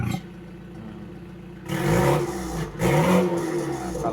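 An idling BMW engine suddenly revs twice with its exhaust in standard mode, two loud throaty bursts with a brief dip between, close by.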